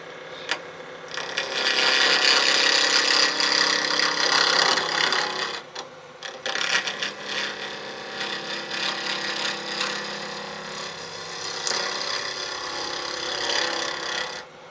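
A resin-coloured antler barrel is trimmed and turned on a lathe, giving a loud, continuous rasping cut that stays steady with a brief dip partway through before the grinding resumes at full strength.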